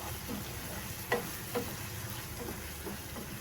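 Masala for a fish curry made with mackerel head is sautéed in oil in a pan, with a soft continuous sizzle and a few scraping stirs of a spoon, heard up close with no speech.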